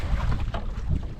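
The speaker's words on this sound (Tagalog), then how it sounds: "Grabing hangin, maalon pa rin dito kahit nasa likod lang tayo ng ating isla mga idol" Strong wind gusting and choppy waves slapping a small boat at sea behind an island during the northeast monsoon, a steady low rumble of wind buffeting the microphone with no talk.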